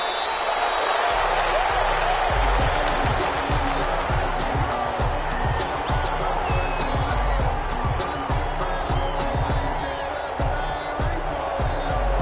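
A large NFL stadium crowd roars with a sustained, dense wash of cheering and noise before a Green Bay Packers vs Las Vegas Raiders game, loud and continuous throughout.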